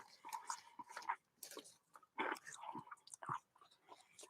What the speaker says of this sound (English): So I'm eating crunchy crackers.